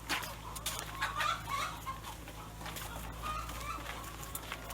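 Chickens cluck and murmur over a steady low hum of farm ambience, soft and continuous with occasional higher calls, no speech.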